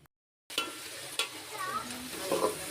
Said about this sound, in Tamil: தக்காளி நல்லா வதங்கணும், அது வரைக்கும் நல்லா கிளறி விட்டுக்குங்க.